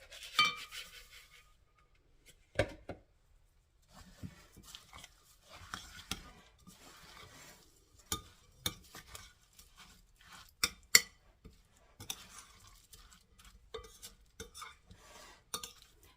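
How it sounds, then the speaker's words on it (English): A spoon stirs gluten-free oatmeal cookie dough made with quick-cooking oats in a bowl, with irregular soft scrapes and sharp clinks against the dish over a long stretch, close and alone. "So once I get this mixed up really good, I'm going to add the rest of the oat mixture."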